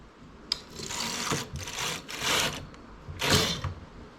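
A knitting machine carriage knits a decorative buttonhole, making four rasping, whirring mechanical sweeps back and forth at close range with short pauses between passes.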